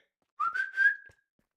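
A person gives one loud rising whistle to call a corgi, lasting under a second and heard alone against silence.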